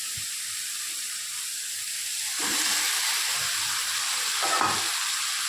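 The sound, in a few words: chicken being stirred into frying curry masala in a pan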